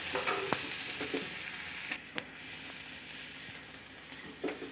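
Cluster beans and onion are stir-fried together in a pan, giving a soft steady sizzle broken by a few sharp scrapes and taps of the spatula, quiet and close.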